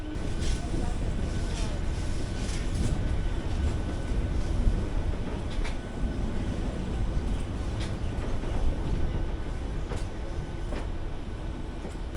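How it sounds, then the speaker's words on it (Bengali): Rumbling interior of a running Howrah–Digha local train on South Eastern Railway, a steady low roar with occasional rhythmic clacks and faint voices in the carriage. "আমরা ট্রেনে উঠে পড়েছি"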